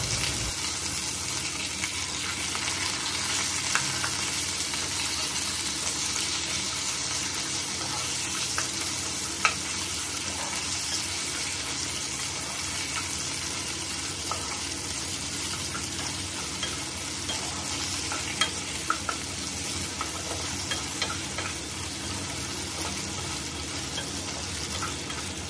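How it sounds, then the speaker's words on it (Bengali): A fish head fries in a pan with onions, giving a continuous crackling sizzle with small pops scattered throughout, steady and close, with no talking. "তো এরপর দিয়ে দিচ্ছি মাছের মাথাটা, দিয়ে ভালো মতো একটু ভেজে নেব।"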